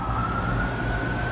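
Emergency vehicle sirens out on the streets of New York City, a steady wailing tone heard from a distance through a window over low city rumble, with no talking.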